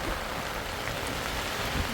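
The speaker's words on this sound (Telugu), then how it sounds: "వర్షం ఇదిగోండి వర్షం పడుతుంది." Steady rain falling during a boat ride on Goa's Palolem mangrove backwaters, a continuous close hiss of drops on water and surfaces with no talking.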